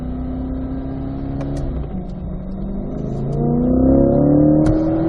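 A C8 Chevrolet Corvette engine revs and pulls steadily on a track, its tone climbing, dropping at a shift, then rising louder again as it accelerates through 3rd, 4th and 5th gear.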